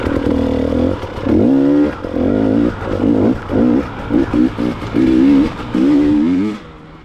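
A KTM XC-W dirt bike engine revs hard again and again through a hare scramble race, loud and close, with choppy bursts of throttle rising and dropping in quick succession.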